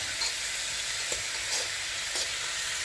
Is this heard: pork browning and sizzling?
yes